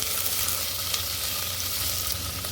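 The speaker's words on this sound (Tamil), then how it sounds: "வெங்காயத்தை நல்லா வதக்கிக்கலாம்." Chopped onions sauté in a hot pan with a dense, continuous close sizzle and a light stirring scrape, with no voices.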